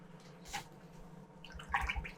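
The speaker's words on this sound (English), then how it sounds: "Wash brush." A paint brush swished and dabbed in a water jar, soft splashy swirls and small drips, close but faint, with a brief clink near the end.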